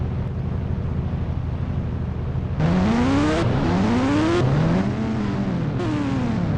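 A scooter engine in the Indian Bike Driving 3D video game revs in repeated rising sweeps. The sweeps start partway through over a steady engine drone and stay close and loud.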